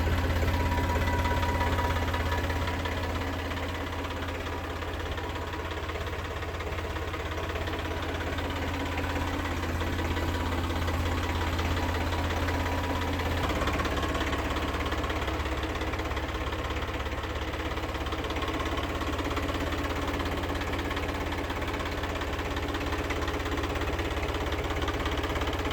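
A 2023 Mahindra Yuvo Tech Plus 585 DI tractor idles with a steady mid-pitched diesel knock that stays constant and close for the whole stretch, with no voices.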